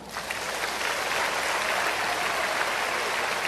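A large audience at a healing service breaks into steady applause, a dense, even wash of many hands clapping that rises within the first moment and holds loud to the end.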